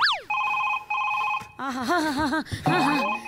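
A telephone rings in short electronic trilling bursts in a comedy sketch, then a voice speaks loudly over it and the ringing comes back under the talk.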